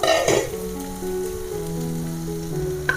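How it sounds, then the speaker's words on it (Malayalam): Chopped tomatoes hit a pan of frying masala for a Kerala-style prawn roast, giving a brief splash and then a steady, close sizzle that carries on alone to the end. "നമുക്ക് ഈ സമയത്ത് തക്കാളി അരിഞ്ഞതിട്ട് കൊടുക്കാം"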